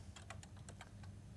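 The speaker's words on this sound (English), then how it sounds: "we do this by typing star Prestel." Keys are struck on a 1982 microcomputer keyboard to enter a command. About eight quick, faint clicks arrive in an uneven rhythm over a steady low hum.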